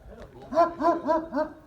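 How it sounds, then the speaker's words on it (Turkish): A dog gives four deep, evenly spaced barks up close, with a softer sound just before them. "gerçekten çok büyük bir köpek"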